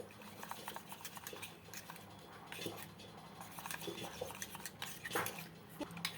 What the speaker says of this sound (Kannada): ಈಗ ತಣ್ಣಗಿರೋ ಹಾಲಿನಲ್ಲಿ ಈ ಕಸ್ಟರ್ಡ್ ಪೌಡ್ರನ್ನ ನಾವು ಹಾಕ್ಕೊಂಡು ಮಿಕ್ಸ್ ಮಾಡ್ಕೋಬೇಕು